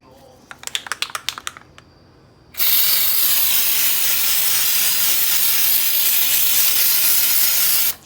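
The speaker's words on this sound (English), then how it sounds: "the spray paint that I used was a textured spray paint" Textured spray paint hisses from a can in one loud, steady, continuous burst for about five seconds, preceded by a quick series of sharp rattling clicks.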